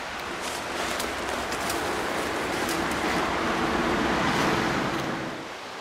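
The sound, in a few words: Laurel Creek flowing water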